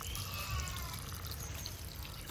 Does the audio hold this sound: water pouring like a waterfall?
yes